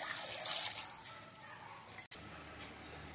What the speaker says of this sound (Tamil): கிழங்கு மூழ்கிற அளவுக்கு தண்ணீர்